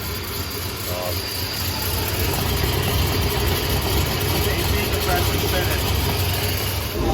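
A stock 2004 Mercury Marauder with a built, cammed 6-liter V8 and turbo headers idles steadily and quietly at first start, a low, even rumble running throughout without revving.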